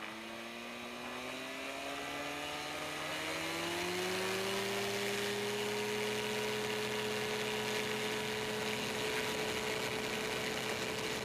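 The electric motor of a Beaver RX 550 RC model airplane whines steadily on a windy day, rising in pitch as it throttles up for takeoff and then holding a sustained buzzing drone, faint and unbroken.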